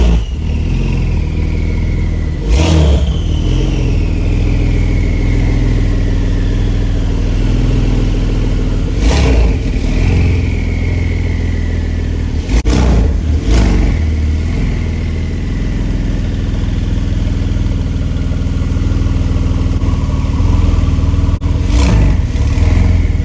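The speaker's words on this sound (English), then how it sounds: "Just listen to the sound of those turbos." A Porsche 992 Turbo S with a sport OEM muffler idles loudly and up close, then revs sharply four times in separate bursts with turbo whoosh between them; no one speaks.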